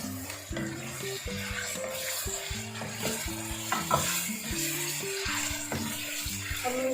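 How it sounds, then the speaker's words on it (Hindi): Chicken deep frying in oil over high heat, a steady close sizzle with stirring clatter and scraping throughout, no talking. "इसमें हम इसको चिकन को डीप फ्राई करेंगे"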